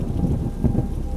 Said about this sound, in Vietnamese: Bầu trời vẫn cứ mưa đì đùng, chập choạng còn có tiếng sét nổ vang trời.